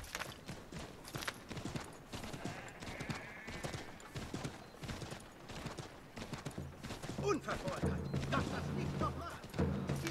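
Horse hooves in the video game Assassin's Creed 3 clip-clop steadily at a trot with an occasional whinny, while someone talks over them and music plays in the background.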